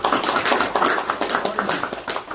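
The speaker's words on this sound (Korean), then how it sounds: "박수" Villagers clap together during a Sejong mayor's visit to a village hall in Janggun-myeon, with a brisk, fairly close round of uneven hand claps that carries steadily for a couple of seconds.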